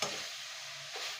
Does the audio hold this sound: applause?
no